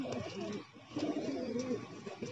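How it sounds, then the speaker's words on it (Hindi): Several pigeons, including a Bajra and a Kalsara, coo in low warbling phrases after settling on a perch, close and fairly clear in two bursts with faint ambient noise. "3 कबूतर बैठ गए।"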